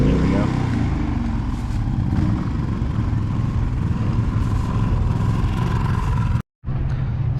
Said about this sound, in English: You can tell like the GoPro right now is about a foot from the generator, and you can hear me talking over the generator